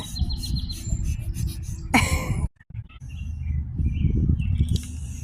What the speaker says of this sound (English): You like the bird sounds?